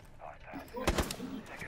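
Rapid gunfire from a competitive online shooter match, with sharp bursts of shots clustered in the middle of the short stretch and people talking over the game audio.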